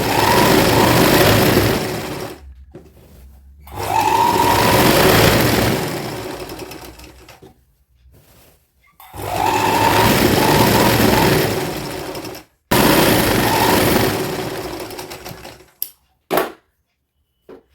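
A sewing machine runs long gathering stitches along saree fabric, a loud rapid mechanical chatter in three long runs of several seconds each, broken by short stops and a few brief final bursts.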